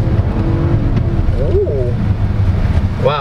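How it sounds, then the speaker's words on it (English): Lynk & Co 01 plug-in hybrid's petrol engine starting up while driving in hybrid mode, a low rumble under road and wind noise with brief rising whines, heard from inside the cabin. "The engine just kicked in."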